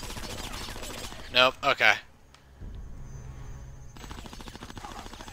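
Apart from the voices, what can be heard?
gunfire shooting at air vents in Conker's Bad Fur Day video game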